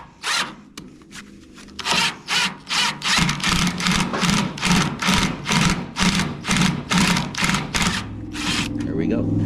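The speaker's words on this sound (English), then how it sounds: "the far end of that screw is kind of rusty and pitted, and it's damaging the threads as I turn it out" A rusty, pitted screw being turned out of a 1964 Impala grill shroud gives a steady series of rhythmic squeaky rasps, close and fairly loud, roughly twice a second.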